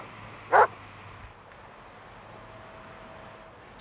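A single loud dog bark near the start, followed by quiet background hiss and a faint sound at the very end, in an educational program about safety with animals.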